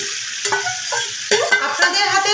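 Marinated chicken pieces for a light chicken curry are stir-fried in a pan, loud and close, with a continuous sizzle and repeated scraping strokes of a spatula every half second or so.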